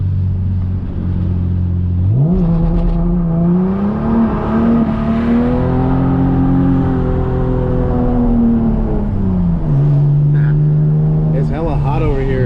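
A 5-speed manual Lexus SC300 twin-turbo engine revs up and holds a rising, steady drone while driving, dipping briefly as it shifts before climbing again, loud and close from inside the car.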